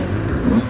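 A freshly repaired MXVET motocross bike at Thoiry MX Park revs loudly up close, a brief rough mid-pitched engine growl rising and falling.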